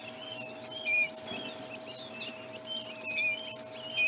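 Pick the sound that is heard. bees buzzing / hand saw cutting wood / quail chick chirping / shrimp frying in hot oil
quail chick chirping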